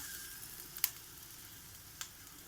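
Aloo paratha fries in oil on a pan with a faint, even sizzle and two brief clicks. No one speaks.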